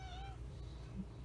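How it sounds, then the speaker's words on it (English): A pet cat meows somewhere in the background of a quiet room, a short faint mewing cry near the start that fades under a low steady hum. "You might be able to hear my cat meowing in the background."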